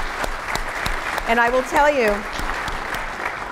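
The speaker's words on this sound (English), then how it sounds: "So I'd like to give them a round of applause and thank you" Audience applause for an architectural awards jury, a broad wash of clapping running throughout while someone speaks over it.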